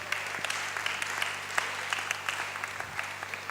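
Church congregation applauding during a sermon, a steady wash of clapping from many hands with no voice on top.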